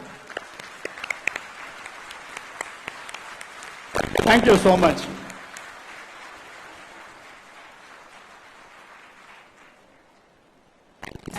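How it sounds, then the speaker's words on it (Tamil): Standing ovation for the Governor at a statue unveiling ceremony at the Governor's residence, with scattered claps building into a loud burst of crowd applause, then fading as someone speaks briefly over it. "we can only give you a standing ovation"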